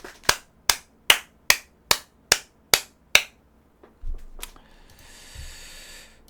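Eight sharp, evenly spaced claps ring out close by at a steady beat, followed by a short pause and some faint rustling and hiss.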